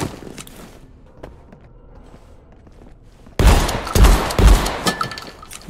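Video game gunfire: quiet ambient rustling and faint footsteps at first, then a sudden loud stretch of close shots and heavy thuds in the final two seconds.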